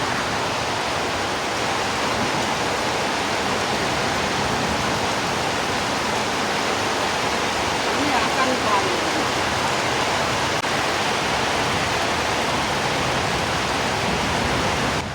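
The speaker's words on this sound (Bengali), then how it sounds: "আল্লাহ জানে এই বৃষ্টিটা কখনো শেষ হবো।" Heavy rain pours in a steady, dense roar, an unbroken loud hiss that stays even and close from start to end.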